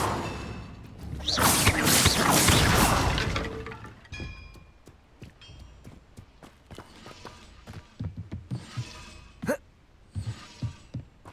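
The Incendio fire spell is cast in the video game Hogwarts Legacy, a loud crackling, rushing blast for a couple of seconds, followed by scattered clanks and footstep-like thuds.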